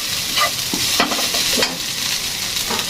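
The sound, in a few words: onion frying and being stirred for bhindi chicken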